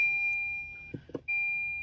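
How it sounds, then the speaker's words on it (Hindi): A Tata car's alert beep: a steady high electronic tone that cuts off briefly, leaving a few faint soft clicks in the gap, then sounds again at full strength. "कुछ भी चेंज होने में आपको खाली एक अलर्ट बीप आ रही है"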